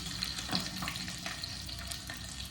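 Garlic frying in hot oil makes a steady, fairly close hiss with faint stirring scrapes, continuing without pause and with no voices.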